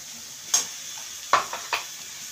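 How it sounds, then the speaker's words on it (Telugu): Ginger garlic paste frying in a pan for a Kolkata-style egg curry: a steady low sizzle with a few sharp clinks and scrapes of a spoon stirring against the pan. "వేసి ఇంకా బాగా ఫ్రై చేయాలన్నమాట"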